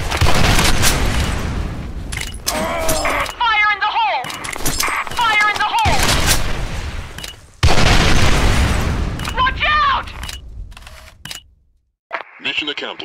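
A grenade going off in the video game Special Force 2, a loud booming blast amid dense game noise, with radio-style voice callouts and other effects around it.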